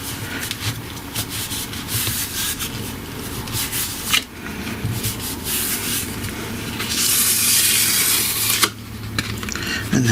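Gel jelly plate rubbed by hand across paper for a craft background, a continuous dry close-up scuffing and rubbing with brief pauses and a louder stretch near the end, no talking.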